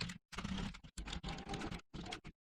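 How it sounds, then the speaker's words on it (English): Rapid bursts of keystrokes on a computer keyboard while passwords are typed into a web form, close and clear, with brief pauses between runs of clicking and no talking. "So when I'm typing the passwords, have a look here."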